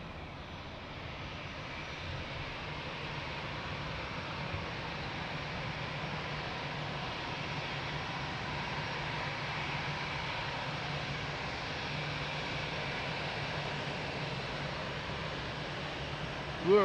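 A steady, loud airliner engine roar sits close and continuous at Lisbon Airport, broadband and unbroken for the whole stretch, with a brief bump right at the end.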